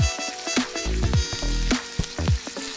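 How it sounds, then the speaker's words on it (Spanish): Food searing in very hot oil on a disco cooking disc over an open fire, with crackling pops and irregular loud spatters over a steady low sizzle. "Lo vamos a sellar mientras cae en el aceite, que ya está bien caliente como ustedes ven y escuchan."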